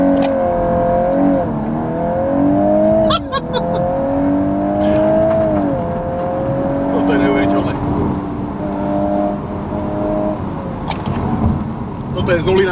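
A Volkswagen Golf Variant R launches hard on a forest asphalt road, its engine roaring loud and close with rising pitch sweeps through gear changes, sharp clicks and bursts marking shifts over several seconds.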